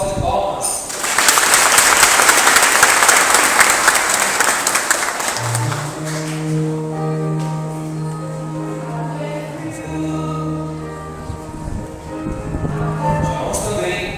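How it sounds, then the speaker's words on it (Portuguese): Audience applause at a school ceremony honoring a fifth-grade student receiving a medal, swelling into loud sustained clapping from a crowd, then fading under music and voices that carry on. "uma salva de palmas"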